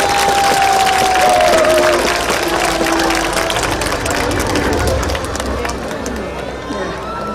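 Audience applause at an outdoor stage of the 38th Icheon Ceramic Festival at Yes Park, a loud, sustained crowd clapping and cheering that fills the whole stretch and eases slightly toward the end.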